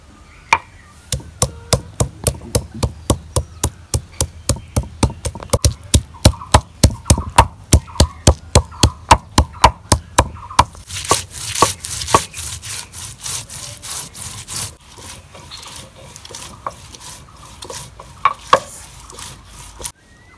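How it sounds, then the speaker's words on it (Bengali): Ginger, garlic, onion and chili being ground on a flat grinding stone, with a steady rhythmic back-and-forth scraping of stone on stone, close and loud, continuing for many strokes. "আমি আদা রসুন পেঁয়াজ সিলাই নিছি, এখন আমি পাড়ার মধ্যে বাইটা নিব"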